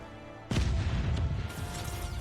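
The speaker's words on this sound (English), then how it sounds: "Where did that second explosion come from?" A sudden, loud explosion in a Fast and Furious film erupts at once after near silence. A heavy low rumble follows and rolls on with debris-like crackle for the rest of the moment, with a second surge partway through.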